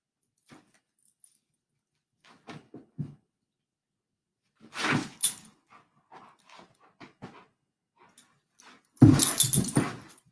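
A dog plays with its toy duck indoors, with scattered soft squeaks, jangling and snuffling, then a louder burst of rustling and squeaking near the end; otherwise quiet.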